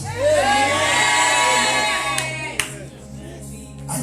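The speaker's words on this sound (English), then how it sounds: "Are you shouting a better amen?" A church congregation at a thanksgiving service after a seven-day dry fast, shouting and cheering together, loud and sustained, with scattered whoops and sharp claps before it thins out.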